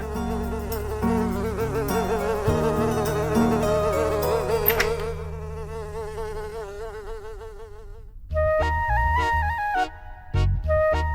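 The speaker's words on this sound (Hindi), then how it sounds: "कमरे में मधुमक्खी घुसा है" A honeybee buzzing indoors in a room, a steady close drone that carries throughout, with music playing over it and a shift to a brighter tune near the end; no talking.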